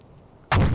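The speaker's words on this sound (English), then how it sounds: "I gotta get the deck gun reloaded here" A submarine deck gun in a naval warfare game fires one loud, sudden blast partway through, after a stretch of quiet low rumble, with the report ringing on to the end.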